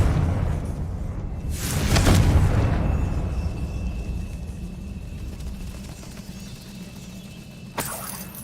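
A Confringo blasting spell explodes in Hogwarts Legacy, a muffled boom swelling and fading over a couple of seconds, followed later by a sharper burst amid low ambient rumble.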